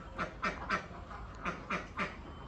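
Laying ducks quack in a quick series of six sharp calls, grouped in two bursts of three, fairly close and clear against a quiet background.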